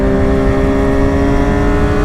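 A motorcycle engine accelerating on a back-road ride, a loud, close, steady drone with a rising harmonic whine and constant wind rumble underneath.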